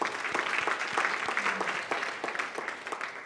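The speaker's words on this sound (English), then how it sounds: "Let's give her a round of applause" An audience at a lighting masterclass gives Lydia a round of applause, a moderately quiet but continuous patter of many hands clapping throughout.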